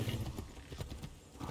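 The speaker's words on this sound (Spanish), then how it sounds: "Vamos, caballo de patas blancas." Horse hooves in the Assassin's Creed 3 video game clop along in a loose rhythm, soft and moderately close, over low game ambience, with no voices.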